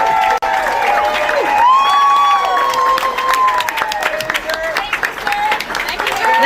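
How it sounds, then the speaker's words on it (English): An audience applauds and cheers, the clapping and whoops rising in a lively burst, with voices calling out over the crowd noise. "they're all clapping for this guy"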